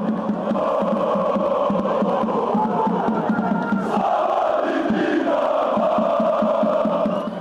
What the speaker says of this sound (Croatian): Više stotina navijača okupilo se na ulici